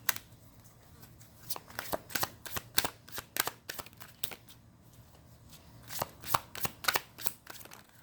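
Tarot cards being shuffled in quick riffling bursts, a rapid crisp flutter repeating several times with short pauses between, close by.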